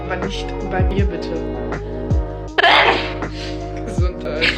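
A person sneezes with allergies, several sharp nasal bursts spread across a few seconds, near and fairly loud, with voices talking around them in a studio setting.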